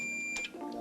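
The continuity-test buzzer on a multimeter, used for checking camper van wiring, gives a short, loud, steady electronic beep that lasts nearly a second, with faint clicks under it.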